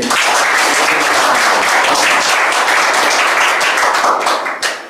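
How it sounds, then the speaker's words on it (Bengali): An audience breaks into loud, dense applause for newly selected Bangladesh Army soldier recruits, sustained clapping from many hands that fades slightly at the end. "যারা চাকরি পেয়েছে তাদের জন্য একটা করতালি দিয়ে"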